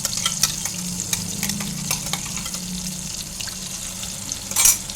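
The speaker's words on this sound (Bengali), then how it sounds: "মশলার বাটিটা ধুয়ে একটু জল দিয়ে দিচ্ছি" Spice paste frying in a pan with a steady low sizzle while water from a rinsed spice bowl is poured in, followed by light stirring clinks and a brief louder splash at the end.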